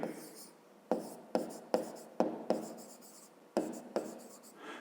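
Pen writing on paper during a fifth-grade maths lesson, a quiet series of scratchy strokes in irregular bursts with small taps as the pen touches down.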